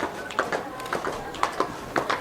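Hooves of a horse bringing a bride to a wedding in inland Sicily clip-clop in a quick uneven rhythm, fairly close, with a faint voice in the background.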